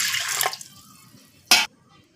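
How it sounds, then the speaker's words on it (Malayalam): Water goes into a pressure cooker holding soaked cowpeas, a short splashy pour at first, then a quiet gap and one more brief splash, nearby with no voices. "ഇനി നമുക്കതിലേക്ക് കുറച്ച് വെള്ളം ഒഴിച്ചു കൊടുക്കാം"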